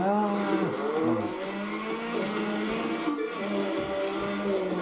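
Racing car in The Crew 2 driving a snowy mountain road, a steady droning engine note with shifting pitch and faint tire noise, continuous and fairly close, no talk.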